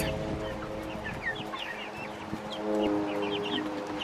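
Farmyard guinea fowl giving scattered sharp, chattering calls in quick bursts, fairly close over a low background murmur of other poultry.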